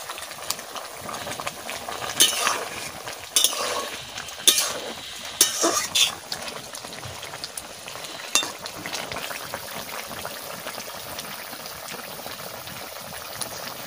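Fish sizzles and fries in a pan of Helencha greens curry, with steady crackling, a stirring spoon and several sharp utensil clatters up close.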